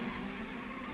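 Saab and Standard cars racing at the 1955 Tulip Rally, a steady droning engine roar held throughout, close and fairly loud.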